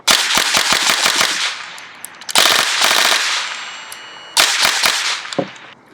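A Specna Arms Edge 2.0 airsoft rifle fitted with a Gate Aster fires three loud, close bursts of rapid mechanical clacking shots, separated by short pauses, with no talk.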